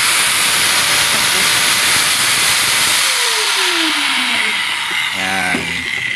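An INGCO brushed impact drill with carbon brushes, switched on and running continuously, giving a loud, steady, hissing motor whine throughout with no speech.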